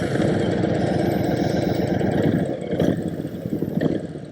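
A Honda Fury chopper motorcycle's engine runs at a steady, loud, close idle with a low throbbing pulse, followed by a couple of brief revs or mechanical clunks near the end.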